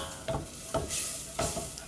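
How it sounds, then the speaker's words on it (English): Onion sautéing in butter in a pan, a steady low sizzle with a few louder stirring scrapes spaced across the short stretch, close and fairly quiet. "I'm going to take my 2 tablespoons of onion and saute them just till you're getting a strong odor of onion"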